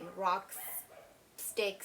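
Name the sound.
dog barking in the background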